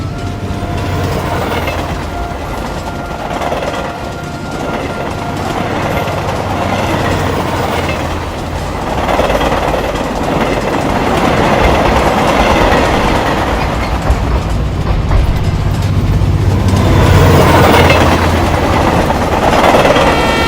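A train rolls along railway tracks in a loud, steady passby. Wheels clatter rhythmically, the rumble swells and fades in waves, and faint squeals rise now and then.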